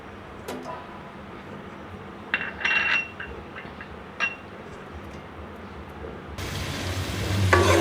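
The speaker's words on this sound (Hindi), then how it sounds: "लहसुन डाल के इसको फ्राई कर लूँगी" Low steady sizzling of garlic frying in hot oil, with a few clinks and scrapes of a utensil, growing louder and crackly toward the end.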